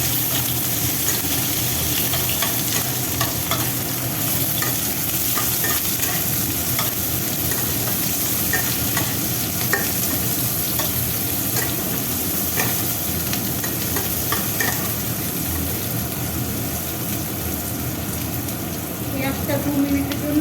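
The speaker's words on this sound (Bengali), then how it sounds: "পেঁয়াজটা 2 মিনিটের জন্য একটু ভেজে নিচ্ছি।" Sliced onion sizzles and fries steadily in hot oil in a pan, a dense, continuous crackle with occasional stirring, close and loud throughout, cooked as the base for butter chicken.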